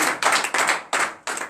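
Rhythmic acclamation clapping during a morning prayer service in Benin, four or five loud, close bursts of many hands in a steady beat, each burst short with brief gaps between.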